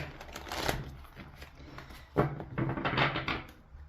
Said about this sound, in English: We'll flip those back around and shuffle again.